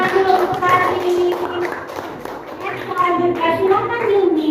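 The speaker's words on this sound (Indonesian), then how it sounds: "Kita tepuk tangan dulu untuk hari ini." A small group in an Indonesian academic coaching session claps hands together, a brief burst of applause heard close while voices talk over it.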